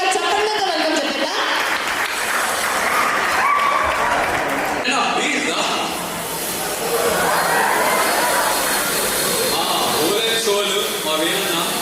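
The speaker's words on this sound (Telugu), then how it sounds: "ఒకసారి గట్టిగా చప్పట్లతో వెల్కమ్ చెప్పేదా?" Applause welcoming guests onto the stage at a Vishwak movie function, a dense, sustained clapping crowd filling the hall, with voices mixed in and a brief dip in the middle before the clapping swells again.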